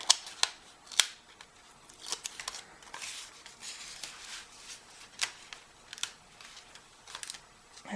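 Paper strips being torn off a handmade pop-up card, a series of sharp, crisp rips and snaps at close range, irregularly spaced and heard alone without talk.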